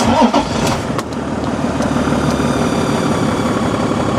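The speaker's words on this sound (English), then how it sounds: "I'll just turn the engine on." A Toyota or Lexus car engine catches and settles into a steady, loud running drone close by, with no talking.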